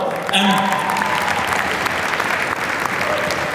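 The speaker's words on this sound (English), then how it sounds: "Maybe a big round of applause for the decor." A crowd at a corporate holiday party in a New York venue breaks into steady, loud applause that fills the room, with brief voices rising over the clapping near the start.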